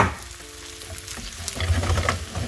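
Chestnuts and garlic in a hot pan are stirred with a few scraping knocks over a low sizzle that swells toward the end, close and moderately quiet, no talk.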